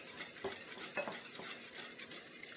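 A spoon stirs a small splash of milk into a flan custard mixture in a bowl. Soft, quiet scraping strokes with a few light clinks against the bowl, fairly close, with no voices.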